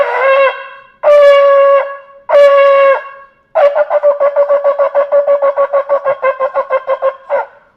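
Shofar blown in a combined shevarim-teruah call: three medium blasts, then a quick run of about a dozen short staccato notes ending with a brief final toot, loud and close.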